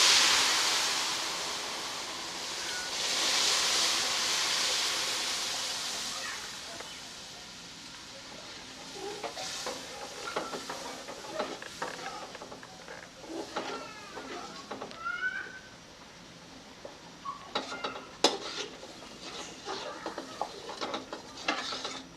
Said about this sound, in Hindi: सूजी हमारी मुकम्मल तौर पर भून चुकी है। अब इस मौके पे इसमें दूध शामिल करने लगे हैं।